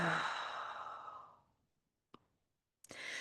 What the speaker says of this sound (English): And take a nice deep breath in and out.